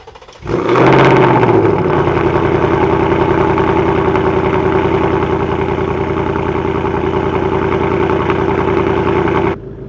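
2024 Mustang GT with a Steeda H-pipe and active exhaust starting up and then idling, a loud, close, steady burbling V8 rumble with no talk over it.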